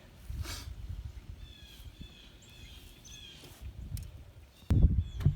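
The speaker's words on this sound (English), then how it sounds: "You can hear all the birds chirping." Birds chirp outdoors on a chilly spring day in a backyard, with thin, scattered calls at moderate distance over a soft background of rustling and outdoor noise, followed by a brief louder thump near the end.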